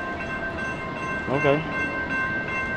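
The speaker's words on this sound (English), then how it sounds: "Train about to come through." A train passing through Charlotte, with a sustained rumble, a brief horn-like tone rising in the middle, and a person briefly speaking over it.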